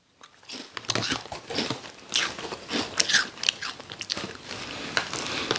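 Mini rice crackers with salted egg flavour are bitten and chewed up close, giving a run of crisp crunches and crackles that come in irregular bursts.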